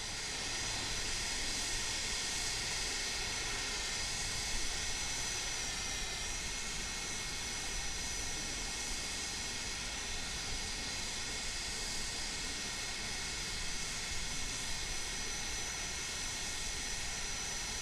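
In Microsoft Flight Simulator 2020, an MD-80 airliner is pushed back from the gate with its engines running, a steady, loud, broadband jet roar and whine that holds throughout with no breaks and no speech.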